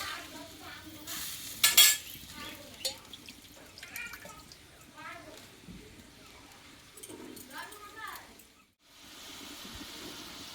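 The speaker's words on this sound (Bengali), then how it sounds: "এইবার আমি ঝোলটা একটু ফুটিয়ে নেব কিছুক্ষণের মতো" Tilapia fish curry gravy bubbling in a pan, soft simmering and sizzling with watery drips and occasional utensil sounds, fairly quiet under a voice talking nearby.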